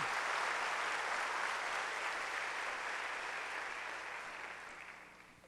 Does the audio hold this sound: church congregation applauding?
yes